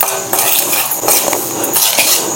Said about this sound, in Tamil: இப்போ இதை நல்லா வந்து மிக்ஸ் பண்ணிக்கலாம்